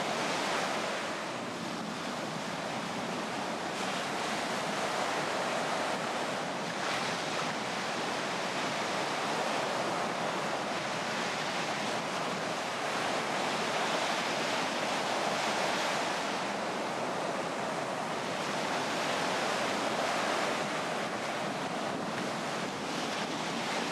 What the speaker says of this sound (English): we look at when the waves are coming back in